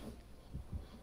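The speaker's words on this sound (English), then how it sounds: "I still hear heartbeats." Heartbeat sound effect from the Dead by Daylight video game, two low, soft thumps pulsing quietly over a steady background hum.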